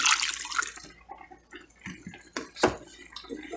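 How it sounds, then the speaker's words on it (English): Water is poured into southern red gravy in a pan, a splashing, trickling pour in short uneven bursts, close by with no talk. "So we're going to add some more water."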